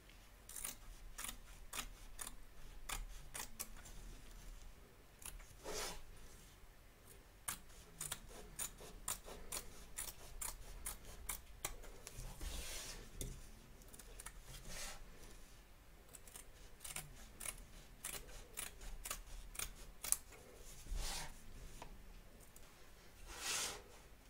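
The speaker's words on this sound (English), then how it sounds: "So turn your hoop over and trim away, taking care not to cut your stitches." Scissors trim excess fabric and stabiliser from the back of an embroidery hoop, making a long series of quiet, irregular snips and clicks close by, with no voices.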